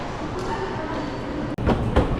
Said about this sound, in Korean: 들어오나 봐 열차가 그지?